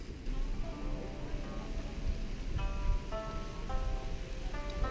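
Rain falling on a rainy day in Cambodia, a steady broadband patter with a faint musical tone in the background throughout.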